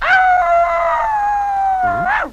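A dog lets out a single drawn-out howl lasting about two seconds, loud and close, with a rising yelp at its end.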